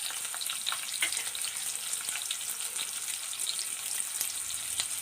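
A large onion, cut lengthwise, sautés in a pan for Tamil kuska, with a steady, close, crackling sizzle of hot oil and small pops throughout and no voices.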